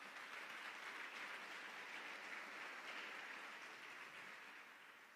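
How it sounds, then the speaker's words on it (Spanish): Steady applause from a church congregation praising the Lord, a dense, even wash of many hands clapping that holds for several seconds and then slowly tapers, with no talking over it. "Dele un fuerte aplauso al Señor"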